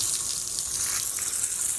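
Water pours steadily into a pot packed with rhubarb leaves for yarn dyeing, making a continuous, close, full gushing sound with no pauses or voices.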